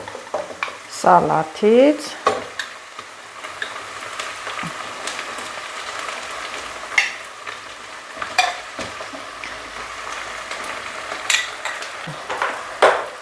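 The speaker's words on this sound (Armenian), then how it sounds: "Սա արդեն սոխառածը տապակվեց" Onions frying in a pot for an Armenian dish, with soft sizzling and intermittent scraping stirs and clinks of a utensil against the pot, while someone speaks briefly nearby.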